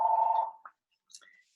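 A telephone going off in the background of a committee meeting: a short electronic tone that cuts off, followed by a few faint brief chirps and then silence.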